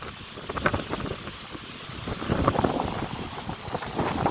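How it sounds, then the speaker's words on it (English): Wind gusting across open dahlia fields in August, a rough, continuous buffeting rumble on the microphone that swells and eases in waves, with stronger surges near the start and middle. "The wind's just got up again."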